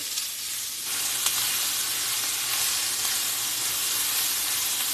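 Onions and peppers hit hot vegetable oil and sizzle loudly, a dense continuous hiss that swells after the first second and stays strong, close and alone.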